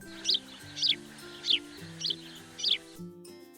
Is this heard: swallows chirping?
yes